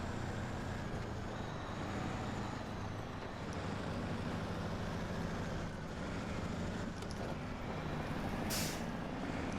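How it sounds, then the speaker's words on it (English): A heavy truck labors over icy roads in the SnowRunner video game, its engine a steady low drone with road rumble and a brief airy burst near the end, no talk. "So this truck definitely does not like these icy roads"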